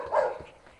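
A single dog gives one short, close bark or yip, a brief burst followed by quiet background rustle.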